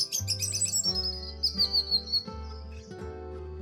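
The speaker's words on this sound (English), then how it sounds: "Reunited, the swallows chirped joyfully together." Swallows chirp in a bright, twittering run of high calls, close and clear, set over a soft musical backing.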